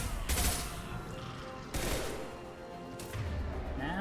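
Gunfire in Mass Effect 2, with a few loud broadband shot bursts spaced a second or so apart over a rumbling game background, no talk.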